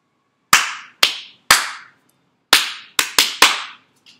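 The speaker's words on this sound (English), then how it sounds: "Just clapping." Sharp hand claps in an irregular rhythm, seven crisp, close claps: three evenly spaced, a pause, then a quicker cluster of four, each ringing briefly in a quiet room during a music lesson.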